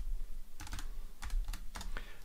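Keys tapped on a computer keyboard in three quick, close bursts of sharp clicks separated by short pauses, heard alone.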